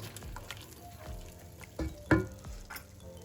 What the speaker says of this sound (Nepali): अब यसलाई यसो चलाउँदै जाने, सबै कुरा राख्दै चलाउँदै जानुपर्छ बिस्तारै।